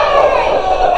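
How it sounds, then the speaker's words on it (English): Wrestling crowd at an indie show, Fight For Your Dreams 4, chanting and cheering loudly and continuously, a dense sustained roar of voices with a steady rhythmic swell throughout. "And you hear the crowd chanting"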